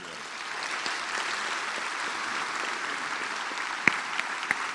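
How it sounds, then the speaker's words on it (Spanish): An audience at a church missionary congress gives a warm, steady round of applause, a continuous moderate wash of clapping with a few sharper claps near the end. "Vamos a darle un cariñoso aplauso."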